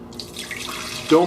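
Water pours into a Blendtec blender jar as a shake base, a short splashing trickle that swells louder toward the end, with faint voice sounds around it.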